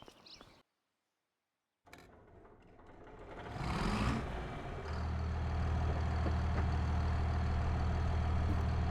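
A tractor engine idles in a logging roleplay game after a quiet gap, a low steady rumble building and then holding evenly loud to the end.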